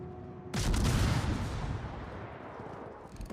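A heavy naval gun salvo booms out in the World of Warships naval battle game, a loud sudden blast with a long rumbling tail fading over a few seconds, no voices.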